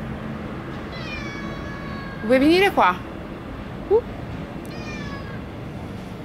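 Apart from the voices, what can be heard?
cat meowing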